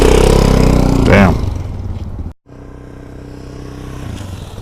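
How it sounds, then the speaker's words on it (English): A motorcycle engine runs loud and close, then drops sharply as the bike brakes hard to a stop during a practice session. It cuts out briefly before a steadier, quieter engine hum carries on. "this is what emergency braking should look like"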